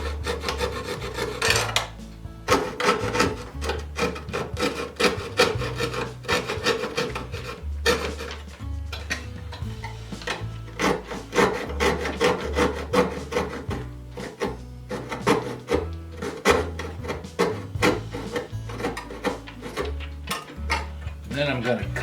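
Material is cut away from a bamboo plane sole plate with a hand tool, a rapid irregular series of rasping, scraping strokes close by, with some brief taps and knocks.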